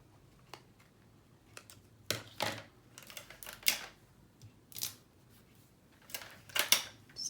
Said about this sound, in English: Taping it back up